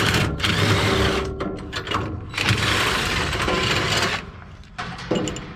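Homemade socket turning a tight bolt on farm equipment during bean harvest, a loud close grinding, scraping ratchet-like rasp in several bursts with short pauses between them.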